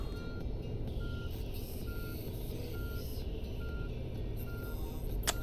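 A coach reversing in Fernbus Simulator's France route sounds a regular, evenly spaced series of single warning beeps over a steady, low engine hum.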